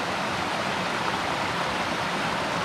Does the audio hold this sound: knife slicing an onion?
no